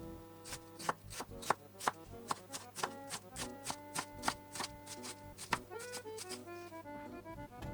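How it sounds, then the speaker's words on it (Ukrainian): Rapid knife chops on a cutting board as two large onions are finely diced with a sharp knife, a steady rhythmic tapping of about a dozen sharp close strikes, then quicker lighter cuts near the end. "Дрібно нарізаю дві великі цибулини."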